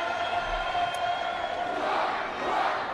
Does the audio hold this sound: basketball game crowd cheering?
yes